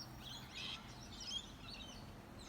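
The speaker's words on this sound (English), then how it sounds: "And then there was a big flock and a big carry-on of birds." A flock of birds chirps and twitters faintly in the distance outdoors in Australia, scattered high calls over steady low background noise with no talking.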